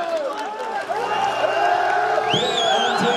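Arena crowd at a EuroLeague basketball game between Darüşşafaka Doğuş and Fenerbahçe, a steady dense roar of clapping and cheering with shrill whistles rising near the end, loud and continuous throughout.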